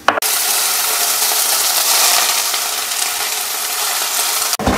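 Dry red chilies with chana dal and urad dal roast in hot oil in a pan, giving a loud, steady, close sizzle and crackle that runs almost without a break, with no voices.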